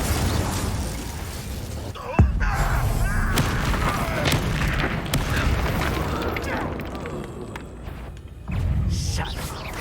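In the video game Hogwarts Legacy, an Incendio fire spell goes off with a sudden burst and boom, set among dense, continuous game combat noise: crackles, thuds and rumbling effects with some voice mixed in.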